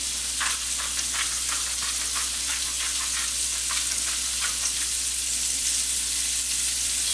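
Meat frying over high heat in a pan, a steady loud sizzle with crackling spatters throughout, close up and with no talking.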